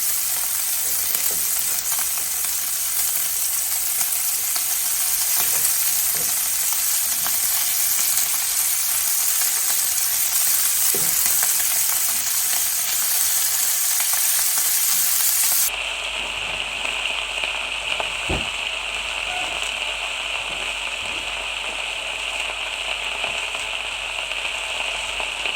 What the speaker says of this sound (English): And we're going to brown these up.